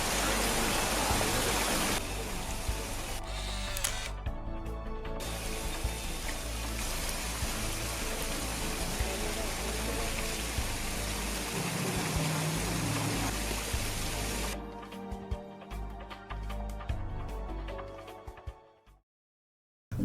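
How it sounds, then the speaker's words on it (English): A waterfall roars as a steady, dense rush of falling water, loud and close, holding constant for most of the stretch before cutting out abruptly at the end. "we are here by the waterfall."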